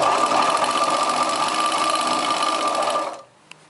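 Sewing machine running a steady, fast stitching run on a chudidar top, close and loud for about three seconds before stopping, followed by a small click.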